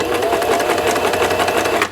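A sewing machine back stitches elastic onto a crochet thigh-high leg warmer, a loud, rapid, even needle chatter running close for two seconds before cutting off.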